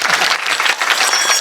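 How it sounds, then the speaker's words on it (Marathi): A crowd at a comedic kirtan gathering bursts into loud, dense applause, many hands clapping fast and close for a brief stretch with no speech over it. "पुन्हा एकदा जोरदार टाळ्या त्यांच्यासाठी. जोरदार जोरात टाळ्या वाजवा."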